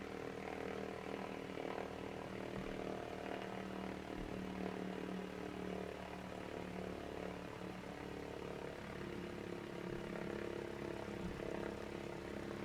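A Cessna 172 engine idles at about 1000 RPM in a flight simulator, parked at Bankstown airport. It gives a steady, even propeller drone with no talking.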